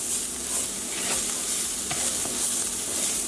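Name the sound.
garlic sizzling in a hot pan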